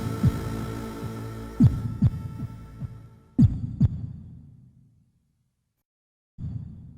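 Synthesized heartbeat from Metal Gear video game music, made with FM synthesis. Deep thumps pulse over a low droning hum, then the sound drops to near silence before the hum returns.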